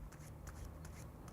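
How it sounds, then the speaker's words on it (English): Overhand shuffle of a deck of playing cards, heard as soft, quick rhythmic riffling bursts close by at low volume, with no one speaking. "I'm just taking the middle of the cards out and doing a overhand shuffle, an overhand shuffle here."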